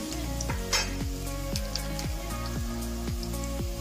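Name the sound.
onions frying in a pan for mutton kheema pulao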